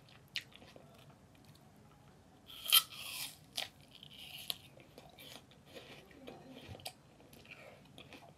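Someone biting and chewing an apple up close, a few crisp crunches with soft chewing between them, quiet overall and with no talking.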